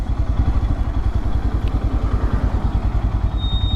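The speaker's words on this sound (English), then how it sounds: "That's a freaking sound of detonation, at least where I'm from." A Royal Enfield Himalayan motorcycle engine runs close by with a rapid, even, thumping knock from detonation, loud and steady throughout.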